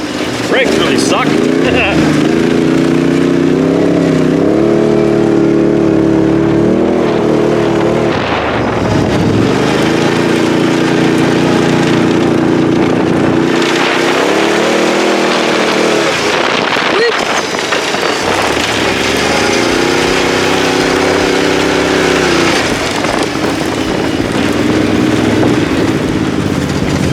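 A 2012 Wildcat side-by-side engine revs hard through repeated rising and falling pulls, loud and close, with wind buffeting the microphone as it drives, and a voice briefly talks over the engine.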